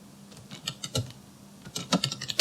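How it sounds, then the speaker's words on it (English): Clicks of a computer keyboard typing in bursts, with a brief pause in between, close by and fairly quiet. "I can type anything."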